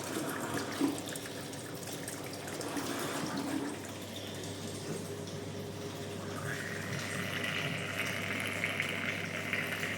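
Bucket filling from a water tap on a building site, a steady close rush of running water that continues throughout, with the pitch rising as the bucket fills.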